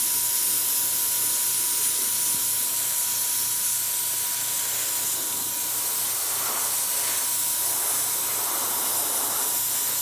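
A spray can hisses steadily and continuously, close and loud, as paint is sprayed loosely over a beige groundwork surface.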